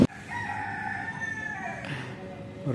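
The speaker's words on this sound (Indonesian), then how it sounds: "Ayam" A rooster crows at an Antang market in Makassar, one long clear cock-a-doodle-doo close by over faint market background noise.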